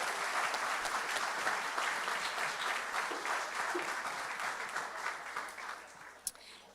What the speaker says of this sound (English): And a round of applause to all three of our candidates, please, and their families.